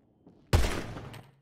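A single close, loud gunshot fired on command at a shooting range, a sharp crack with a short rumbling decay, heard alone.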